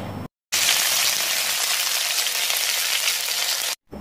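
Mustard seeds and green chilies sizzling and popping in hot oil in a broccoli thoran pan, a loud dense crackle that runs steadily for about three seconds between brief silences, with no talking.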